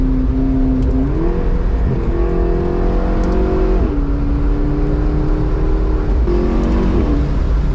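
A McLaren 650S Spider engine revs steadily, rising and falling in pitch with a throaty growl, loud and close throughout.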